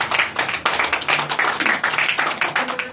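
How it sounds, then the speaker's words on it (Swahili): Church congregation clapping for the Lord during prayer, a loud, rhythmic burst of many hands beating in a quick, steady pulse at close range. "Pigia Bwana makofi makubwa."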